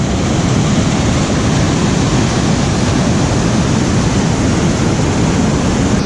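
Center Falls, a waterfall on a Temagami river, pours in a loud, continuous broadband rush heard close up, an unbroken steady roar with no voices.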